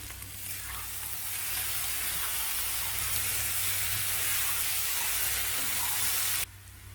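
Chettinad-style potato and peas masala cooking on a medium flame, giving a steady dense sizzle and hiss with occasional stirring, close and even, until it cuts off abruptly near the end.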